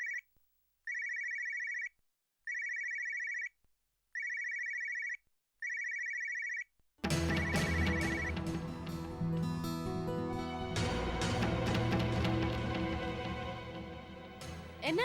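A mobile phone rings with an incoming call, five even electronic ringtone bursts with short pauses between them, followed by a swell of dramatic music.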